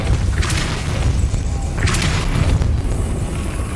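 Depulso spell blasts in Hogwarts Legacy, two loud whooshing bursts with a deep booming thump beneath them, close and forceful over a constant rumbling game background.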